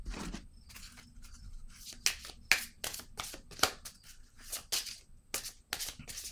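A deck of playing cards is shuffled up close in repeated quick riffles and flicks, crisp bursts coming in an uneven rhythm, quiet and alone with no speech.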